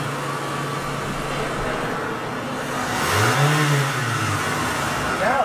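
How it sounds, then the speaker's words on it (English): A Mitsubishi Galant with a MAP and MAF sensor problem idles roughly, then its engine is revved up, the pitch rising and falling in a brief surge over a constant whirring drone. "I'm going to rev the engine up and try to get a break up so I can show the students the difference"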